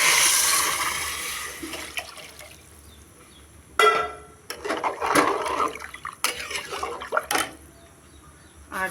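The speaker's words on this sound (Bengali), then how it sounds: "আমি ঠান্ডা জলই দেবো।" Cold water poured into a cooking pot while making vegetarian khichdi, a bright splashing pour at the start that fades, followed by scattered clinks and knocks of the pot and utensils.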